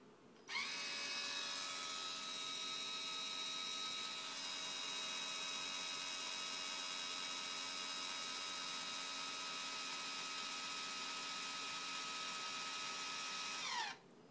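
An Arduino-controlled linear actuator motor runs with a steady electric whine for about thirteen seconds, starting and stopping abruptly, close and alone with no talk.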